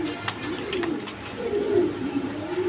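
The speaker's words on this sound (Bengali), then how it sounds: "দেখেন এটা হাই ফ্লাইং গিরিবাজ কবুতর, সবুজ গোলা" High-flying Giribaz pigeons, a green-checkered pair, coo softly and repeatedly at close range, their low rolling calls rising and falling against faint background noise.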